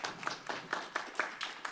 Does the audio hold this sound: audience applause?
yes